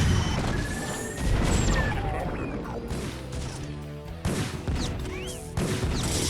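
A Terran tank is destroyed in a StarCraft match, a crashing blast amid dense, layered battle noise with repeated impacts and weapon fire throughout.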